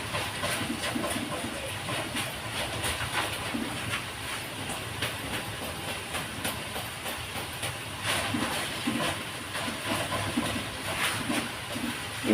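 An air fryer runs steadily while cooking frozen Shanghai rolls, giving a continuous close hiss and fan whir with no talk over it.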